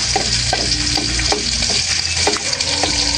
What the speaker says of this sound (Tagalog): Ginigisa na rin po natin itong pingo.